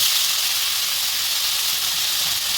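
Boiled taro hisses steadily in a pan, a loud, even sizzle of steam with no break from start to finish and no voices.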